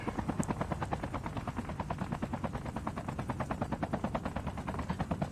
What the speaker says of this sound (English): there was a chopper in the back